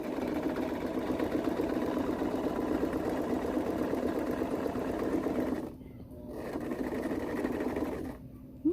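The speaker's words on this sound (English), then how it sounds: "make sure that the needle part of the sewing machine is down and into the fabric" A sewing machine stitches fabric in a steady, loud whirring run for several seconds, stops briefly, then resumes for another short burst.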